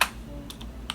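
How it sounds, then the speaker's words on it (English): Computer keyboard keys tapped on a Pentium 233 PC while entering an OS/2 boot command, a few quick close clicks in under a second. "to boot into that, we have to type the following command"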